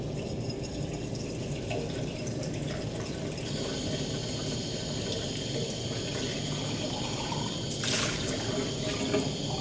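Steady running tap water as school lab glassware is rinsed at a sink, a continuous close wash of splashing flow lasting throughout with a brief brighter splash near the end, no voice.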